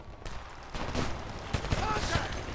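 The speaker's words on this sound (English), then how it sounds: "More gunfire. I hear it." Bursts of distant gunfire crackle in rapid volleys in the video game Homefront, a few sharper shots standing out against a noisy, rumbling background.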